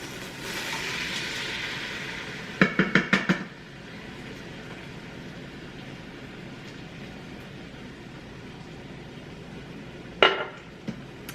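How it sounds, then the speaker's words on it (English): Utensil scraping and clanking against the inner pot of an Instant Pot while lasagna sauce mix is stirred in, a short cluster of metallic knocks early on and another brief burst near the end over quiet room tone. "I'm going to stir all this stuff together."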